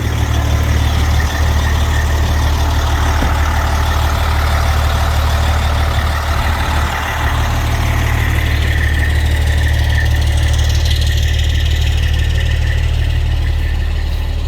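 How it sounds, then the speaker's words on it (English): A personally owned fire truck's engine runs loud and close in a continuous deep rumble, with a brief dip partway through and faint squeal-like tones above the drone. "So this is my personal fire truck."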